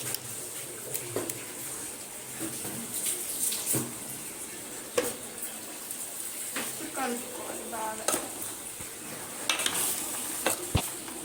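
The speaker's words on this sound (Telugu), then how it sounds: "బాగా కలుపుకొని మసాలా మొత్తం ఈ వెజ్జీస్కి పట్టాలి" Vegetables and masala being stirred in a pot of sambar, giving soft intermittent scraping, clinking and wet sloshing sounds over a faint steady hiss, with occasional sharper knocks of the spoon against the pot.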